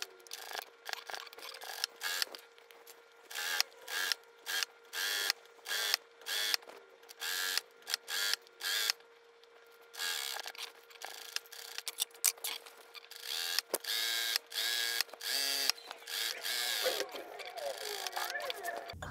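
Sewing machine stitching along the edge of a jacket-style blouse, a quiet run of short mechanical bursts and clicks starting and stopping in an uneven rhythm, close by.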